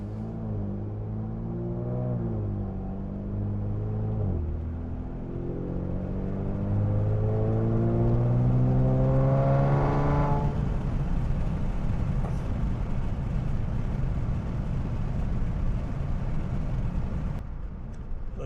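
An Infiniti Q50 with a loud full exhaust drives along, its engine droning and rising through the revs, then settling into a deep, steady rumble heard close up from near the exhaust.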